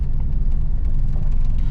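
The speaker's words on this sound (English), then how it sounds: "can you hear that the car is vibrating a lot?" A Mitsubishi Bravo kei van idles in New York City traffic, its cabin filled with a loud, constant low rumble and heavy engine vibration.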